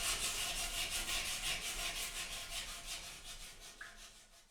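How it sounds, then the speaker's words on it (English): Wet sanding a toilet bowl ring by hand with 120 to 180 grit sandpaper gives a steady, rhythmic rubbing scrape, repeated strokes close up and fairly quiet with no talking. "So I'm going to wet sand, starting with 120 grit and then finish with 180"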